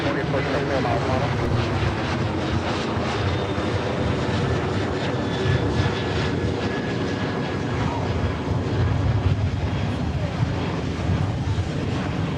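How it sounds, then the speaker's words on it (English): A Sun Country charter jet takes off from runway 30 left, its engines a broad, steady roar heard from a distance, with radio chatter over it throughout. "So Sun Country charter departing now to Waterloo"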